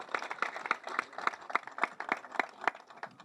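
Sparse, evenly spaced hand claps from a small group, crisp and fairly close, continuing steadily for a few seconds with no voices over them.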